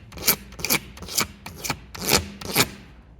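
A razor blade scraping gel coat off the hull of a Sea-Doo jet ski, six rhythmic rasping strokes close up and fairly loud, each a short gritty scrape.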